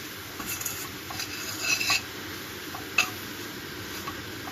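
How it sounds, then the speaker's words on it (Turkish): Butter and flour stirred and toasted together in a pot for mushroom soup: soft, irregular spoon scrapes and light metallic taps with a sharper clink near the end, over a steady low kitchen hiss. "ve ardından yavaş yavaş sütü ekliyorum"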